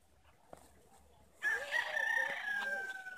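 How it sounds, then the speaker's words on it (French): Outdoors near Diamond Head in Hawaii, a rooster crows loudly and nearby in one long, drawn-out call that starts suddenly after faint background noise and tapers off at the end. "Et le coq là-bas qui en peut plus."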